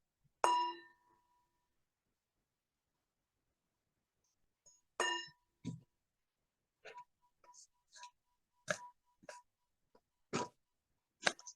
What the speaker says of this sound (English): the bell will invite us